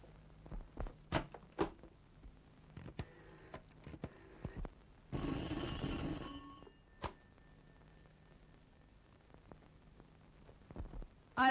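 An old landline telephone rings in a Turkish comedy film scene, its short electric bell bursts arriving in a few separate rings amid quiet room noise and small thumps.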